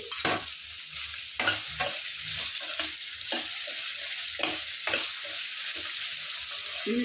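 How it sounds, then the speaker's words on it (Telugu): Onions frying with salt in a pan for a tomato egg curry, a soft steady sizzle broken by sharp, irregular spatula scrapes and stirs heard up close. "దీంట్లో ఉల్లిపాయ వేగాలంటే కొంచెం ఉప్పు వేసుకున్నాం అంటే తొందరగా మగ్గుతాయి"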